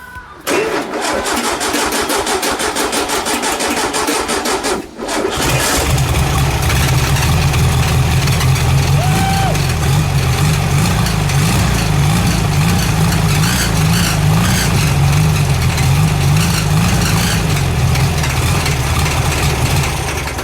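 A chrome-dressed air-cooled VW engine in a 1971 Karmann Ghia cranks briefly, catches and settles into a loud, steady, slightly lumpy idle heard up close for the rest of the clip.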